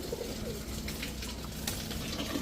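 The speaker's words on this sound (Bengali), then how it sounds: "এত সুন্দর একটা পেয়ার এই লাল গররা কবুতর" Soft, low cooing of red Gola pigeons repeats in the background over a steady hum of ambient noise, with no voices.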